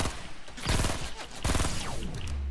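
Gunfire from a Fortnite Battle Royale match, two dense bursts of rapid shots around the middle of the clip, loud and close over a busy game soundscape.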